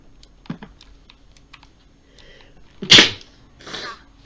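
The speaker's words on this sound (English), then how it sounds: "What the hell did you just like sneeze your lungs out the back of your head?" A single loud, close sneeze bursts out with a sharp attack, followed about a second later by a softer breathy exhale, set against scattered light keyboard typing clicks.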